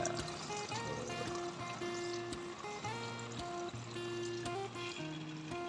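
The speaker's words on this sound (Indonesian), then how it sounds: "Siram selama apapun, dia akan cepat turun airnya." Water poured over fertilized plant growing media while fertilizing fruiting plants, draining quickly through it as a steady trickling pour with background music and tonal sounds throughout.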